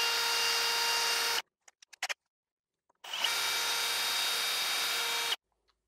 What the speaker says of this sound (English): you're just gonna drill till your little mark stop meets up with the edge